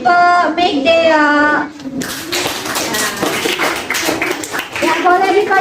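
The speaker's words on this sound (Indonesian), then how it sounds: "tepuk tangan buat kelompok Megdeo" Students in a classroom clap for a presenting group, a steady patter of hand claps that rises midway and runs under children's chatter and a speaking voice.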